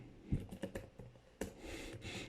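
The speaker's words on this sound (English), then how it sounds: "I'm typing what I'm saying." Quiet keystrokes on a computer keyboard while writing JavaScript code, a few irregular taps and clicks close by, with no voices.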